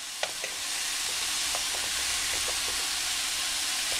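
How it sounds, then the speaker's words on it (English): Pork bites searing in a hot, smoking pan produce a steady, loud sizzle, opening with a couple of sharp pops and small crackles before settling into a continuous hiss. "That's what I'm looking for, a nice good sear"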